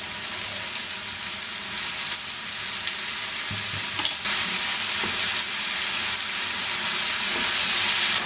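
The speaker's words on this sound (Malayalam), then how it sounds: "ഇനി മീഡിയം ഫ്ലെയിമിൽ നമുക്കിതൊരു 5 മിനിറ്റ് ഫ്രൈ ചെയ്തെടുക്കാം." Apples coated in butter with sugar fry over a medium flame, giving a steady close sizzle throughout with a few faint stirring clicks and scrapes.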